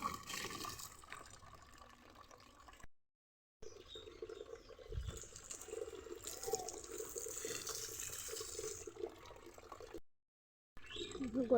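Water poured onto dried-out garden plants makes a continuous soft trickling and splashing, fairly close, broken by two short silent gaps, with no clear speech.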